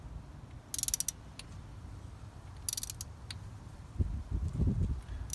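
Quiet mechanical clicks and ratcheting snaps from a torque wrench tightening spark plugs to 12 foot-pounds, with a couple of sharp metallic clicks and some low rustling handling noise.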